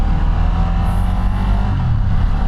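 A water-cooled V2 engine on a Ducati Multistrada V2 motorcycle pulls away under load, producing a loud, close, steady engine drone with no voices.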